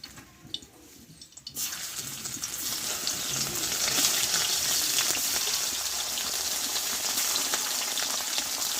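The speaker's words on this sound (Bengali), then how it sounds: "এই বাকি মাছগুলো এই তেলেই ভেজে নেবো" Fish pieces fry in hot oil: after a quieter opening with a few small knocks, a loud, dense crackling sizzle bursts in and holds steady, close up, with no speech.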